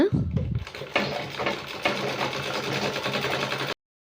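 A sewing machine stitching a hook strip runs in a steady, fast mechanical whirr close by, starting after a brief thump and cutting off abruptly at the end.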